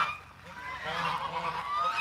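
A flock of geese honks loudly and continuously outdoors, overlapping calls layered into a steady, nearby clamor with no talking.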